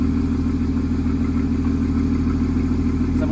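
A Porsche Cayman S 981 runs with its exhaust valves open, giving a loud, steady, deep idle burble with a pulsing low throb that stays even throughout.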